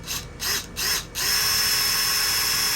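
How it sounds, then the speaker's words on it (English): A power drill whirs in a few short stuttering bursts, then runs steadily and loudly into wood without pause. "So I got my 2 lines I'm going to drill in."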